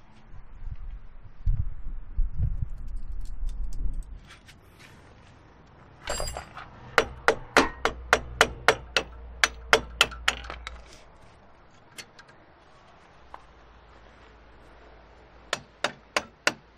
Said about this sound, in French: tapez avec un marteau comme ça